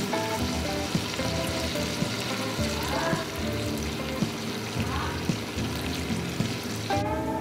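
Butter melting into ghee sizzles and fries steadily in a pan, a continuous crackling hiss close by with occasional stirring scrapes and no talk.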